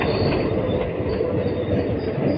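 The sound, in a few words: express train entering New Jalpaiguri station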